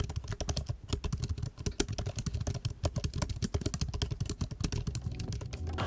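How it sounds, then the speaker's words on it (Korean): A mechanical keyboard with red switches clacks in rapid, dense bursts of keystrokes, close and crisp, with no voices. "적축으로 구매를 했지만 이것도 사무용으로 쓰기에는 무리가 있는 제품입니다"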